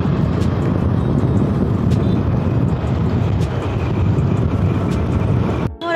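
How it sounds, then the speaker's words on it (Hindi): Dense road traffic on Ellis Bridge at the Ahmedabad riverfront, a loud steady roar of engines and tyres heard up close for the whole stretch, with no one talking over it. "यहाँ पे ट्रैफिक आप देख सकते हो बहुत ही ट्रैफिक रहता है यहाँ पे।"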